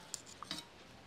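Metal clinks and scrapes come from a spoon as tamarind-leaf chutney is moved from an iron wok into another vessel. Taps and knocks are scattered and soft, heard close up in a quiet kitchen with no voices.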